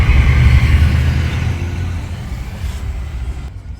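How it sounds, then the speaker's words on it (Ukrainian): A car pulls away with a loud low engine rumble and revving that gradually eases as it drives off, no voices. "І така машина поїхала."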